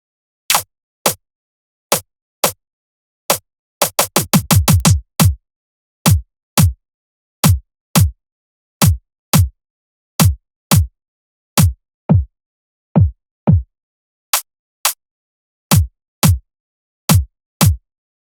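Drum and bass kick drum shaped with a dip at 300 hertz, played alone as a sequence of punchy, loud hits in an irregular pattern with a fast flurry in the middle, no other instruments.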